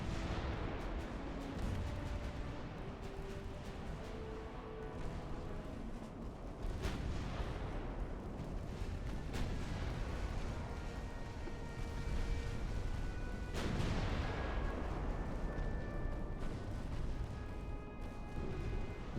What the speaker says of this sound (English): Yeah, that torpedo was gonna hit.